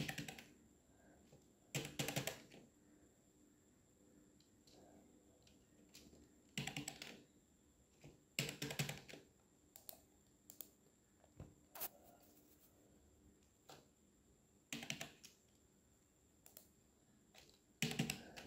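Someone types numbers on a computer keyboard while holding Alt. Quiet key taps come in scattered clusters, with a few louder clacks standing out over a faint background hum.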